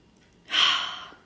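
A single audible breath drawn in, a soft airy rush that swells quickly, holds for about half a second and then tapers away, close and quiet with no talking.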